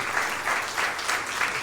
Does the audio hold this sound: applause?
yes